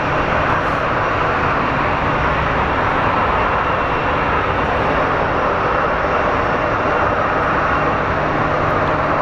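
A jet airliner lands at Phoenix Sky Harbor International Airport, filling the air with a loud, constant broadband engine roar and rush that holds steady throughout, with no voices.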